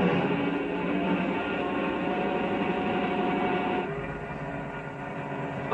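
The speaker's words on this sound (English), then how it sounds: "Slowly, he starts the long line of cars rolling." A long freight train bound for Chicago starts rolling, its cars rumbling and clanking in a steady, continuous roar that stays loud and close, easing slightly toward the end.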